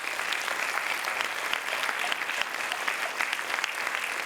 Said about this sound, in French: Je voudrais que vous applaudissiez énormément Nordine